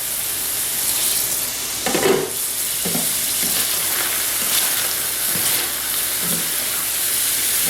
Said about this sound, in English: Those onions are starting to caramelize.